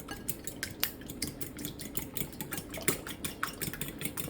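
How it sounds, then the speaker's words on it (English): A whisk beats eggs in a bowl for a pumpkin spice cupcake batter, giving steady quick metallic clinks and scrapes against the bowl, close and fairly soft, with no talking. "Gonna whisk the egg"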